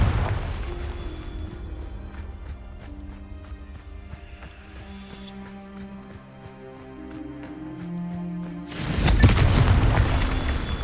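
Confringo spell blasts in Hogwarts Legacy: a deep booming explosion bursts in loudly near the end, following a stretch of layered musical score with rhythmic percussive hits.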